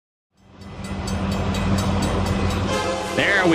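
A train in the video game GTA Online rumbles in and keeps rolling with rhythmic clicking, getting louder toward the end, where a brief horn-like tone sounds; speech is mixed in faintly.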